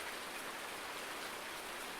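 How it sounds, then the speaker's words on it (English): Steady rain in Farming Simulator 19 with the Seasons mod, an even, dense hiss of falling drops with no voices or other sounds over it. "It's still raining, which is good."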